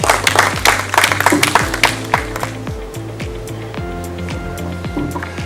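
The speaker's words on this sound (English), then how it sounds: "Okay, you can give a round of applause." Round of applause from attendees at a sub-national strategy workshop, scattered clapping that is fuller at first and thins out over several seconds, heard over a low steady hum with no talking.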